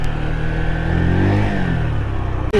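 A Honda motorbike engine revs loudly and steadily up close, its pitch rising and falling through a swell near the middle before cutting off abruptly at the end.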